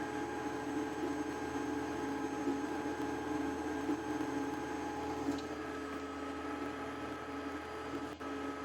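A steady low mechanical whir with a faint hum runs throughout, quiet and even, from a Creality CR-X 3D printer working nearby, with no voices.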